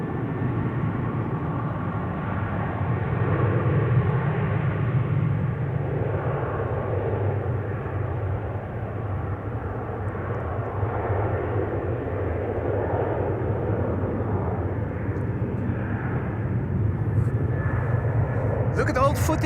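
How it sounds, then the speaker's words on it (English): A Singapore Airlines A350 jet taxis at Amsterdam Schiphol toward the runway threshold, its engines a steady low rumble and hum under someone talking throughout, the roar holding constant without building to takeoff. "A350 to Singapore flight 323 is making its way to the threshold of 18 left"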